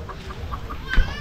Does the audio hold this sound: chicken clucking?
yes